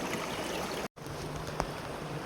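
Stream water runs beneath a big rock outdoors, a steady close trickle and gurgle that breaks off briefly before carrying on alone.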